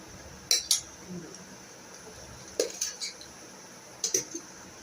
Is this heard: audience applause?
no